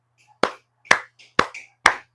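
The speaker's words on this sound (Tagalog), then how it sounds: "Palakpak naman dyan." Four sharp, evenly spaced hand claps ring out close and loud, each separated by about half a second of silence.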